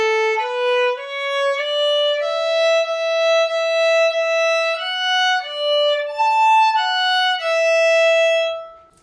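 A solo violin plays the opening of Song of the Wind from Suzuki Book 1, a close, clear string of bowed notes moving step by step in a steady tempo, ending on a held note that fades out, with no speech.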